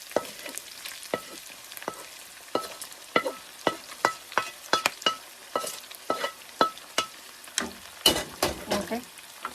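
Ground pork fries in a pan with a steady sizzle, broken by a regular series of sharp scraping clacks as it is stirred, close and clear.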